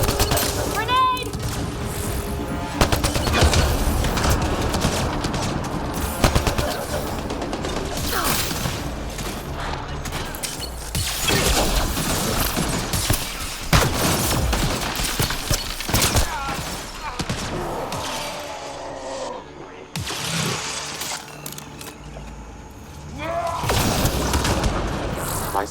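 Grenade explosions and gunfire in the Mass Effect: Andromeda video game, dense bursts of shots, booms and mechanical clanks throughout, with speaking voices among the combat noise.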